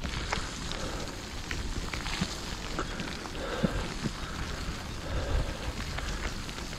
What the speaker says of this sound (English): It's the sort of rain that gets you soaked